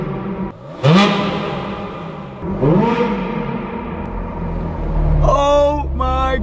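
A Ferrari 430 Scuderia V8 revs hard in sharp rising and falling sweeps, two big blips early, then a settled rumble and a rapid stuttering run of high revs near the end, close and loud.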